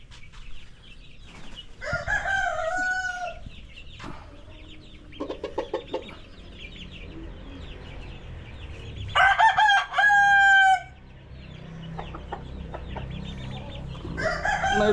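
Breeder chickens in a farm pen, with roosters giving two loud, close crows over bursts of clucking and low background noise.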